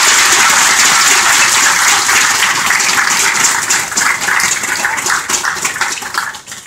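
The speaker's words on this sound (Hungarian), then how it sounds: "Egy óriási nagy tapsot szeretnék kérni mind a két együttesnek." A crowd applauds loudly and steadily for two bands at a League of Legends esports final in Hungary, the clapping thinning slightly toward the end.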